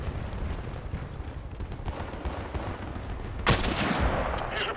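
Gunfire in a shooter video game: a dense, continuous rattle of automatic shots that fills the whole stretch, with a brief louder burst near the end and no speech over it.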